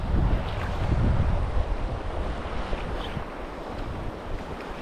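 Steady wind gusting outdoors beside a river while steelhead fishing, a continuous broadband rush with buffeting on the microphone, strongest early on and easing slightly, with no voices.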